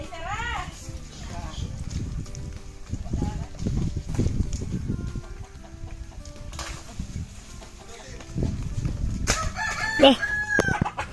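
Chickens cluck and a rooster crows near the end, over people talking and children's voices in a busy outdoor setting.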